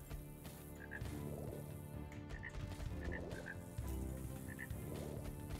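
A frog in the video game Pesticide Not Required croaks repeatedly in a regular rhythm, loud and close over a steady droning game background, with no speech.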